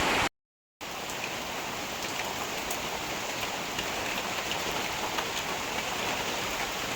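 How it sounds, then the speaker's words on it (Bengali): Heavy, steady rain drumming on a tin roof during a stormy downpour, a dense unbroken wash of sound that starts after a brief gap and continues alone without voices. "ঝুম বৃষ্টি চলছে, প্রচুর পরিমাণে বৃষ্টি চলছে। এর মধ্যে উপরে টিনের চাল"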